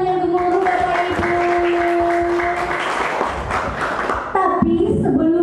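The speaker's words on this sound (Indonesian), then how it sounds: "Tepuk tangan yang gemuruh Bapak Ibu." An audience applauds at a village simulation event, a sustained wash of many hands clapping at once, steady and fairly loud, with talking and a voice carrying over the applause.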